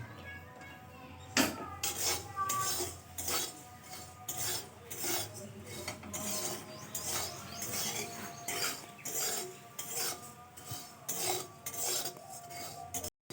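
Food being stirred in a pan with the gas switched off, fenugreek (methi) among the ingredients, for a rohu fish dish: continuous scraping and rasping of a utensil against the pan, with light clinks, steady and close.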